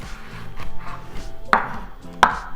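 Two sharp, close knife chops through celery on a cutting board, separated by about a second, over quiet kitchen background with no talking.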